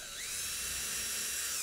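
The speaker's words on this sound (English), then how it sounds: "I'm just going to pre-drill it so I know exactly where the screws are going to go." A power drill with a pre-drill and countersink bit bores a screw pilot hole for a dovetail jig box, a steady high-pitched whine that holds briefly before cutting off.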